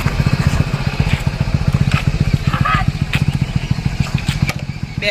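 A motorcycle engine runs close by with a rapid, regular low thumping and a rattly edge, holding steady the whole time.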